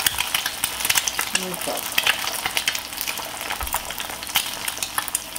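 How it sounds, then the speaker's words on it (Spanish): Eggs frying in a pan with coarse salt, a close, continuous crackling sizzle with sharp pops throughout; a voice speaks briefly. "yo voy a empezar a guisar mis huevos"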